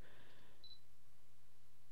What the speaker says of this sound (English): normally if you press the shutter button to focus